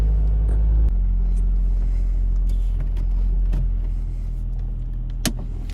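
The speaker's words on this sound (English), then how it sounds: "my car, when it starts up, just because it rattles a lot just when it starts up for a quick second" A Ford Focus engine runs close by as a heavy, steady low rumble. Its tone shifts just under a second in, and light rattles and clicks come and go over the drone.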